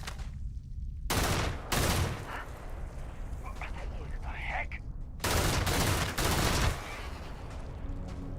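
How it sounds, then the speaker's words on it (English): Enemy gunfire in Starfield, several loud bursts of rapid shots breaking over a steady background of game sound, with a pause between the first and last volleys. "How can they be shooting at us already?"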